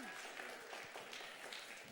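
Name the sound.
chapel audience clapping for speaker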